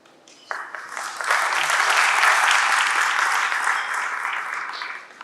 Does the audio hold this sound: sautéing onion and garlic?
no